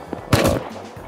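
Gunfire in the Rust survival game, a sharp shot burst with a short rattling tail standing out over quiet background, brief and fairly close.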